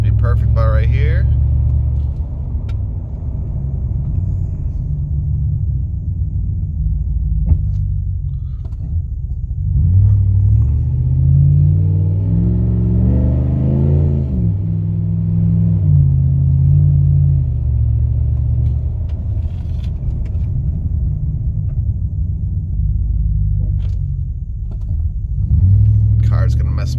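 A 2016 Ram 1500 pickup fitted with Powerstop brakes rumbles along at road speed, its engine and tyre noise swelling and easing as it slows under hard braking, heard from inside the cab with a voice talking over it.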